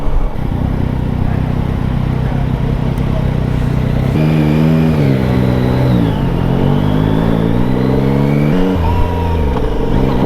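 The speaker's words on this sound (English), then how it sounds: "this will be a new experience, crossing the bridge on a motorcycle" A motorcycle rides across the Mackinac Bridge on a calm day, its engine droning steadily and loud throughout with wind rush, the pitch rising and falling as the rider shifts and accelerates.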